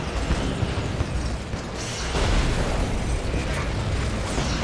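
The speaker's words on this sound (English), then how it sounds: "Beam cannon online. Activate weapon systems." In the Command & Conquer 3: Kane's Wrath video game, a beam cannon fires an energy beam. It gives loud, continuous booming blasts with crackling bursts and a stronger surge about halfway through.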